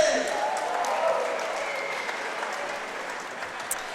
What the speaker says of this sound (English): let's give a big round of applause for Danny Huckabee!